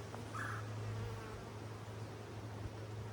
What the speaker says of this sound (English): A lot of bees right here.